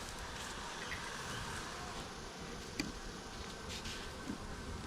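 Honey bees crowd a hive frame, a steady low buzzing drone filling the clip at a quiet level, with a couple of faint clicks and no voices.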